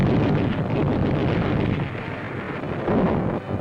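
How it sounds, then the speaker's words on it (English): Continuous heavy rumbling roar of distant naval bombardment from warships before a WW2 landing at Tarawa, 1943, dense and sustained with no pauses, like massed explosions blending into one thundering wall of sound. "our warships unleash a tremendous pre-landing bombardment"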